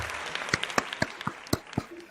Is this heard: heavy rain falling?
no